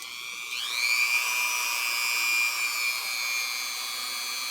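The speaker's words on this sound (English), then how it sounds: "One other useful tool is a Dremel tool." A Dremel rotary tool switches on and spins up to a high, steady whine that holds loud and close, easing only slightly toward the end, with no voices.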